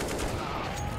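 Gunfire in Counter-Strike on the Mirage map during a pro tournament match, a brief dense burst of shots heard loud and close against a steady game soundscape.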